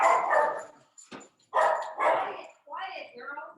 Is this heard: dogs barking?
yes